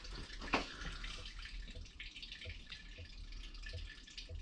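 Engine coolant from a Mercedes ML350 (OM642, W166) trickles and drips from pipes into a 10-litre bucket, a faint, steady watery splashing with a few soft drips heard close by.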